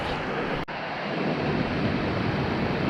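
Creek water flows near a waterfall in North Carolina, a continuous loud rushing wash with a brief dip early on and no talking.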